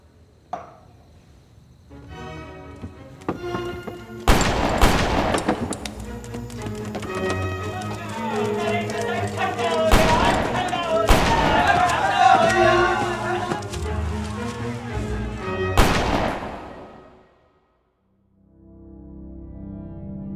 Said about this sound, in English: Narendra is shot at.